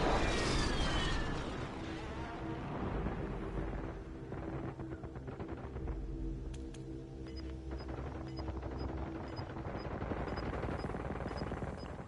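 Precision airstrike explosions and bursts of gunfire in the Warzone video game, with a loud blast at the start, rolling rumbles, rapid automatic fire and small electronic beeps later on.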